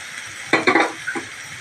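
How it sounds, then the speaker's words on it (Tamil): Chopped vegetables for veg cutlets dropped into hot oil, setting off a few short, loud bursts of sizzling over a quiet background hiss. "இந்த எண்ணெயிலே நல்லா போட்டு பறக்கி விட்டுடலாம்"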